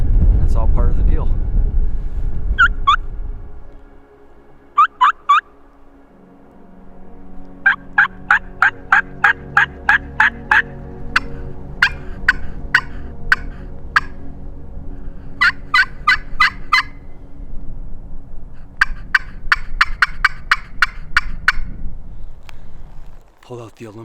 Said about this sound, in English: just struck a gobble, probably within 200 yards